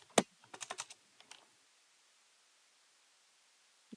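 Computer keyboard keys tapped while writing C++ code, a short close burst of clicks and one louder thump, then silence until another tap at the very end.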